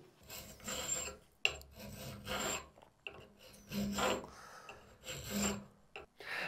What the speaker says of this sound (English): a nice flat file is going to come into play. You're just going to smooth off all those edges, smooth off any burrs that might have gotten left by the blade